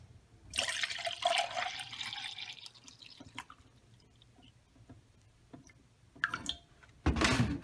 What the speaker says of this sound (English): we are going to add water up to 50 milliliters